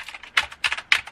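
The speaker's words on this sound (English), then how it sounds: "You hear them keys?" Computer keyboard keys clack in a gaming setup, with three distinct bright strokes over a faint steady typing patter, close and alone.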